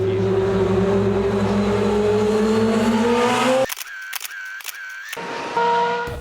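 An A1GP open-wheel racing car accelerates hard, its engine note rising steadily, then the sound drops away and a burst of rapid camera shutter clicks follows before the engine returns.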